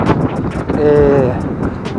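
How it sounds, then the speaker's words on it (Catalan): Strong wind buffets the microphone while cycling along a greenway, a loud rumbling roar with gusty swells, with someone talking over it. "Fa molt de vent"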